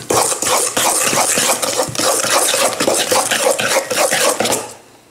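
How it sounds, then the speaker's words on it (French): Tiramisu cream ingredients mixed by hand in a bowl, a steady run of close clinking and scraping strokes against the bowl that fades out at the end, with no talk. "je mélange tout ça"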